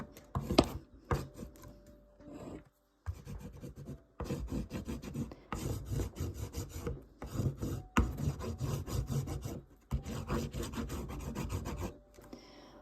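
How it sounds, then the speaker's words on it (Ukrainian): Candle wax rubbed hard over a decoupage panel to give it an aged look: rough, rasping scrapes in steady back-and-forth bursts, close and fairly loud, with short pauses between strokes and no voices. "Я беру свічку да, і натираю прямо зверху."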